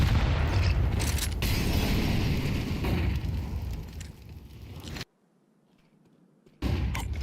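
A Molotov fire in Counter-Strike 2 makes a loud, roaring burst of flame that rumbles and slowly fades, then cuts to silence for about a second and a half before resuming abruptly.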